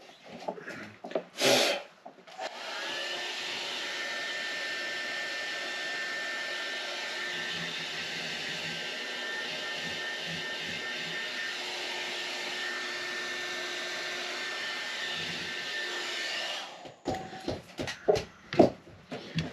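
A heat gun blows with a steady, loud whir for about fourteen seconds, warming hot hide glue at the neck joint of a Martin D-45 '42 Authentic acoustic guitar, with brief handling knocks before and after.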